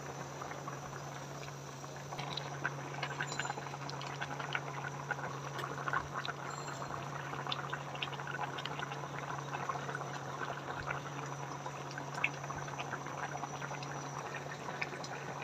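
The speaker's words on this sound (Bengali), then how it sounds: "মাছ দিয়ে দিচ্ছি এতে এখন।" Fish and eggplant curry simmers in a pot, giving a steady, soft bubbling and fizzing with light irregular pops that continues evenly throughout, with a low constant hum underneath and no talking.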